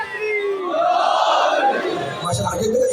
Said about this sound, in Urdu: ایک نعرہ لگائے تو طاقت سے آواز آئی.